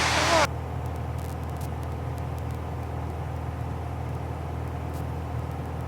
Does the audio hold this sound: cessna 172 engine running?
yes